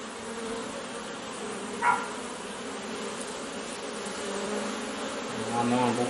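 Honeybees buzz steadily around an open, busy hive during a spring inspection after a cold spell, a constant close drone with a brief knock and faint voices in the background.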